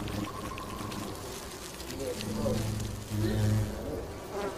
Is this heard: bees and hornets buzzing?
yes